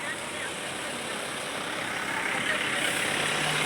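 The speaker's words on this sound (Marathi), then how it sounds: "हे पाण्याचे टँकर आहे हा दूध टँकर होता" A milk tanker truck idles on a road during a foot pilgrimage procession, giving a steady, fairly quiet diesel engine rumble throughout that swells slightly toward the end, with low crowd and outdoor ambience behind it.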